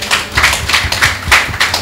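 Audience at a lecture on learning foreign languages clapping in a short, close burst of distinct individual claps, bright and fairly loud, with no speech over it.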